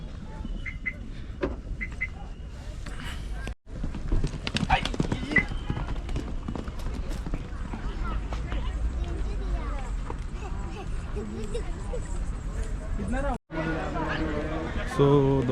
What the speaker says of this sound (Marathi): फास्ट आहे घोडा.